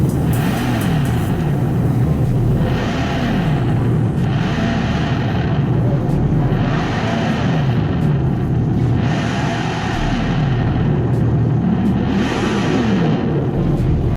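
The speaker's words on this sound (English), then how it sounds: "They're trying to, create sounds to make it sound like you're revving up your engine" A loud, steady synthetic engine drone from an electric Dodge Charger's speakers rises and falls in repeated revving swells, each building up then easing off, with no talking.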